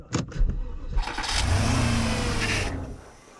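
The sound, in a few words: BMW X5 and Porsche engines starting without oil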